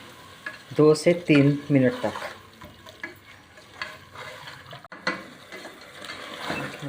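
Mutton, soya and tomatoes sizzle and scrape as they're stirred around a hot pan, a steady crackle while someone speaks briefly over it.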